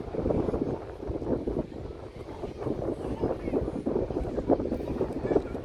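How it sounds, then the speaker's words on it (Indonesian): Strong wind buffets a Samsung Galaxy S20 FE phone microphone in a constant low rumble with gusty surges, loud and close, with no clear speech. "Jadi anginnya lumayan kenceng ya."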